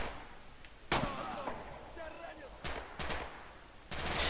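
Sniper rifle fire in a competitive online multiplayer shooter match: several sharp, separate gunshot cracks spaced a second or so apart, sounding moderately close over a noisy game background.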